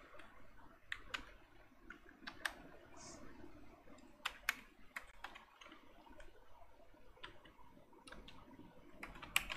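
Quiet, irregular keystrokes tap on a computer keyboard while someone types a search into a remote desktop session, with soft clicks scattered over low room noise.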